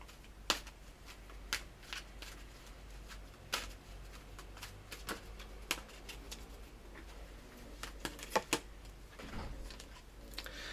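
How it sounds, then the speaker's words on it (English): Oracle cards being shuffled by hand, quiet close riffling and slapping with sharp irregular snaps and soft shuffling between, faint and alone without talk. "I'm just going to get you your oracle cards with final messages for Aries"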